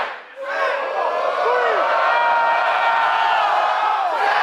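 A packed sellout crowd at an indoor pro wrestling show cheers loudly and continuously after a brief lull, a dense roar of voices, whoops and applause filling the room.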